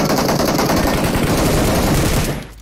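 Rapid, continuous video game gunfire rattles loudly and densely, with overlapping bursts for over two seconds before cutting off abruptly.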